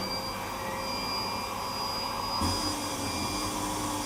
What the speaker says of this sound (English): We remove this with the Deco vacuum